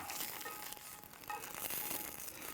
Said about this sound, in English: a couple of nice thick Italian sausages.